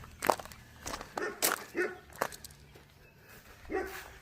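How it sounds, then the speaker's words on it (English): A dog barks outdoors in a handful of sharp, irregularly spaced barks, moderately loud and close, with faint movement sounds between them. "Now, there's one dog."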